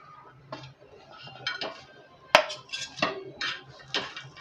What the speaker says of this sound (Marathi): आता आपण खोबरं भाजून घेऊया।